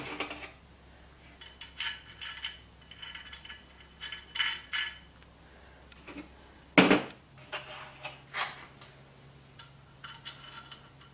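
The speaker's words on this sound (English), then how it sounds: "Got some washers. These little half moon lock type washers." Small half-moon metal lock washers clink and rattle as they are handled during a fat bike tire liner job, scattered light metallic taps and one sharper clatter over a quiet background.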